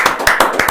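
Close, rhythmic hand clapping at a podcast session, a few distinct sharp claps in quick succession.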